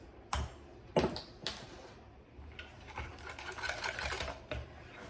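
A whisk mixes ingredients in a bowl for chicken and dumpling soup, giving soft, quick, irregular clicks and scrapes. The sound is faint and close.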